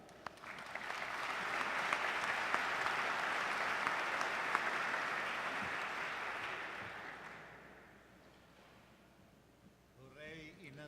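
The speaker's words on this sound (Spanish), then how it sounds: "Damos un cariñoso aplauso y reconocimiento al cardenal" An audience claps warmly for a cardinal at a formal gathering, a steady swell of applause that fades out after about seven seconds before a voice begins speaking.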